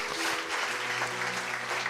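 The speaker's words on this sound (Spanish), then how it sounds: "Denle un aplauso al Señor, iglesia, porque hay fiesta en el cielo." Church congregation applauding during a Sunday worship service, a dense steady wash of clapping for about two seconds with a low sustained tone underneath.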